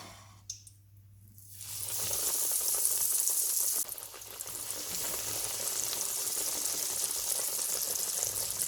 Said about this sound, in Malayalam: ഇനി നമുക്കിതൊന്ന് ഫ്രൈ ചെയ്തെടുക്കാം.